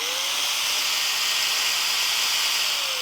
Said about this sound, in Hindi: एंगल ग्राइंडर तो हमारा लग गया। अब इसको ना एक बार चला के भी देख लेते हैं।